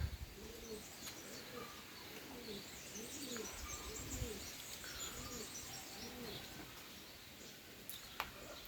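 Sport pigeons coo in a pigeon loft, a steady series of soft, rounded coos repeating through the stretch with faint chirps above, moderately close but quiet.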